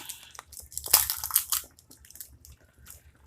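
An egg cracked into a bowl of ricotta cheese and parsley, giving a sharp crunchy crack with a wet plop, followed by faint scraping and dripping, close and alone.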